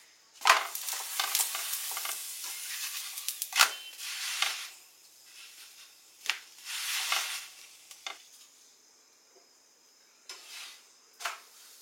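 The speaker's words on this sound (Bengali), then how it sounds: "অল্প তেল দিয়ে একদম ফ্রাই করছি।" Methi paratha frying in a little oil on a pan, a soft sizzle broken by several sharp scraping and pressing bursts from a spatula, with quiet gaps between them.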